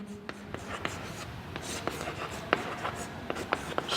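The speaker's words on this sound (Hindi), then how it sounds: "तो यहां लिखता हूं मैं" Chalk or pen strokes on a board during a Hindi biology lesson, a series of quick sharp scratches and taps in irregular rhythm, close and clear, with a teacher talking over them.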